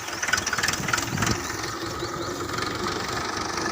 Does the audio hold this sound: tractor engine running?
yes